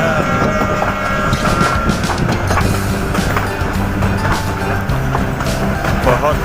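A passenger train travelling from Karor to Islamabad rumbles loudly and steadily along the track, with clickety-clack wheel noise throughout as it rounds a turn.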